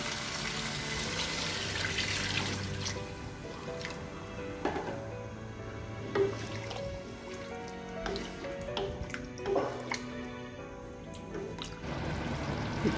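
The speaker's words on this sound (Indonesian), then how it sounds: "Masukkan santan" Coconut milk poured into a pan of cooking rendang jengkol with flattened jengkol, a steady liquid trickle and splash, close and moderately quiet, with soft stirring squishes and no talk.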